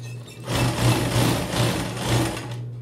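A sewing machine stitches through thick denim while mending a hole in a pair of jeans: a steady, close motor whir with a low hum, pulsing slightly as it runs continuously for a few seconds.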